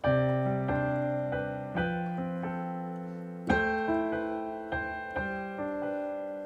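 Piano chords struck in the warm middle register, roughly C3 to G5, about nine separate chords in a steady, unhurried sequence, each ringing out and decaying before the next, close and clear with no voices.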